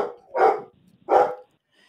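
Dogs in a garden give two loud, separate barks less than a second apart, close by, with silence between them.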